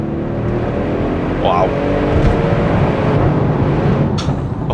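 An Audi RS6 C7 Performance accelerating hard at full throttle in third gear, heard from inside the cabin as a loud, steady engine roar that builds over several seconds, with a brief exclamation from a person.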